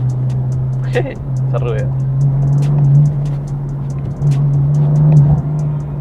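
Steady, droning engine note from a 2014 BMW M4 with a 3.0-litre turbo, heard from inside the car as it pulls, with a brief swell near the end and people talking over it.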